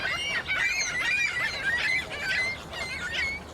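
Flamingos at the Lincoln Park zoo give repeated nasal, honking calls in an overlapping flock chatter, moderately close over a low background hum.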